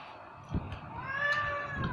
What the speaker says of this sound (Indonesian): kasih makan kucing dulu guys. Kasihan mau minta makan guys, lapar guys.